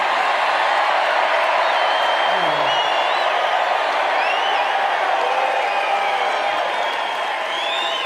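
A large crowd at a Trump MAGA rally in Allentown, Pennsylvania, keeps up a steady, dense roar of cheering and clapping, with scattered whoops and shouts rising from the mass throughout.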